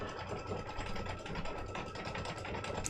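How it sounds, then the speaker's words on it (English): A Baby Lock Altair 2 embroidery machine stitches out red lettering, a steady rapid mechanical whirr and patter close by, with no talking. "The red letters are growing on me. The more it stitches out."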